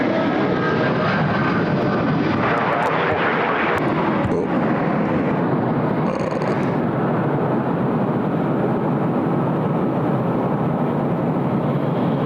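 Jet airliner taking off from runway 34 left at Sydney Airport, a loud continuous roar of engines that stays steady and near throughout, with no talk over it.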